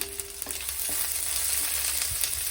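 Crushed garlic fries on a low flame for a Kottayam-style fish curry, giving a steady, soft sizzle broken by a few light stirring clicks, with no talk.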